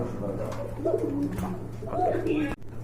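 A pair of red pigeons coos in soft, repeated rolling calls at close range, two distinct phrases over a low steady hum, with a person talking nearby.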